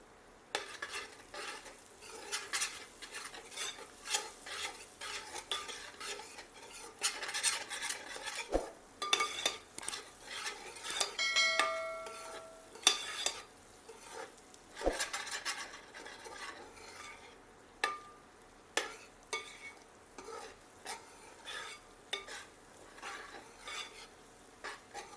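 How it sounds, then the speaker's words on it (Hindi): A spiced base for ridge gourd curry fries with turmeric and salt, a faint, low sizzle under frequent light scraping and clinking of a ladle against the pan, with no voices. "तत्पश्चात इसमें आधा चम्मच हल्दी और स्वादानुसार नमक मिलाकर"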